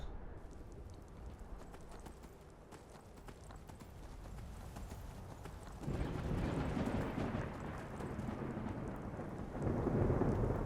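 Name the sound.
rain and thunder in Skyrim video game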